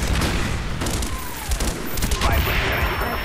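Mortar strikes land in Call of Duty Black Ops as a rapid volley of loud, heavy booms and blasts that overlap into a dense barrage, with a voice faintly audible beneath.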